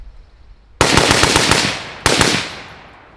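Suppressed AK-74 fitted with a Liberty Torch can, firing two rapid strings of shots, a long burst followed by a shorter one, loud and close, with each crack ringing out after the bursts.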